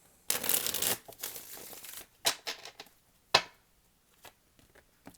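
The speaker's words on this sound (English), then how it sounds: "Do two more shuffles, please." A deck of cards is shuffled in a loud riffle near the start, followed by scattered snaps and soft flicks of cards being handled up close.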